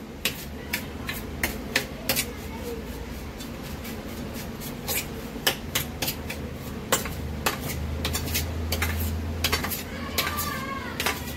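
Rava laddu mixture being stirred with hot sugar syrup in a metal vessel, a spoon scraping and clinking against the pan in irregular taps and scrapes, fairly quiet and close, with no talking.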